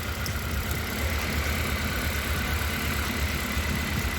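A Honda Accord CB7 with a G23 VTEC engine idling roughly with plug number 4 disconnected, a steady close mechanical drone with an uneven, labouring undertone and no talk.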